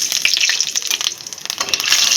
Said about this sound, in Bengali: এখন একটু জিরে দিয়ে দেবো